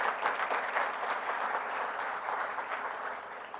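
Audience applause at an entrepreneurship talk, a steady dense wash of many hands clapping that holds evenly for a few seconds without voices.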